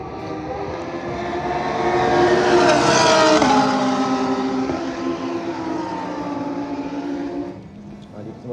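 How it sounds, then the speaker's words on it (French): Ferrari, Lamborghini and Porsche race cars overtake on an F1 circuit, their high-revving engines swelling to a loud peak as they pass close by, then dropping in pitch and fading into the distance. "Dépassement entre Ferrari."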